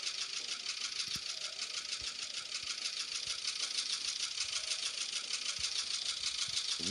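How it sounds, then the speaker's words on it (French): A tractor engine runs steadily in the mobile zombie survival game Experiment Z, a continuous mechanical drone with faint knocking that holds at an even level for the whole stretch, with no talk over it. "Je suis en fond avec le tracteur."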